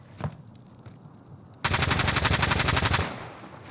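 A big gun fires in Call of Duty: Modern Warfare, a loud, close burst of rapid automatic shots lasting over a second before it cuts off, with softer noise before and after.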